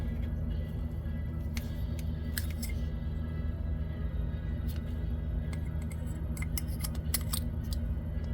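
A few sharp, crisp snips of scissors trimming crochet yarn, scattered irregularly over a steady low background hum, close and with no talking.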